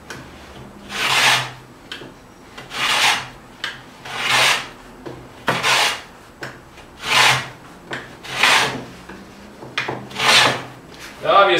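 A hand plane shaves a rabbet into MDF in cabinet joinery work, giving about eight even, rhythmic swishing strokes with short gaps between them, close and clear with no talking.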